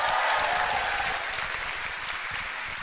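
An audience at a stand-up comedy show breaks into dense, sustained applause, loud at first and easing slightly toward the end.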